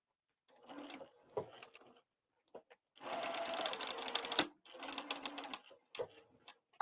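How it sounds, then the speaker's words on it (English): A sewing machine stitches a crossbody bag lining from the inside in several short, close bursts of rapid mechanical whirring separated by brief pauses and small clicks. "So I'll just stitch it from the inside."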